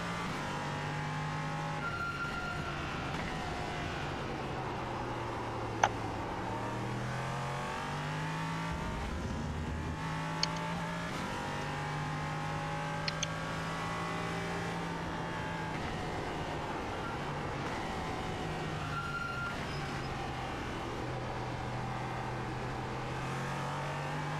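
Steady whine of an LMP3 prototype race car in a racing video game at Motorsport Arena Oschersleben, engine note rising and falling through gear changes for the whole stretch, with a few sharp clicks and no talk.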